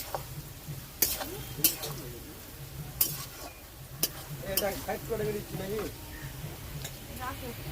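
Potatoes frying in oil over a wood-fire stove, a steady sizzle broken by sharp clanks of a utensil against the pan, with a voice talking over it.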